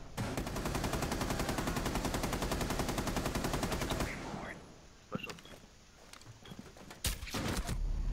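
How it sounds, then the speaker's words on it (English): Rapid automatic gunfire in the video game Rainbow Six Siege, a loud sustained burst of fast regular shots for about four seconds, then scattered single shots and impacts at lower level with a final sharp report. "Got someone in the B site shooting at me."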